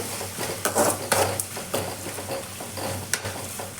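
Onions frying with a tablespoon of salt are stirred in a pan, with soft scraping strokes and utensil clinks at an uneven pace over a low, steady sizzle.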